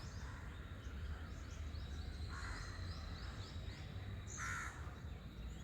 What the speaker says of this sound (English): What is that crow doing?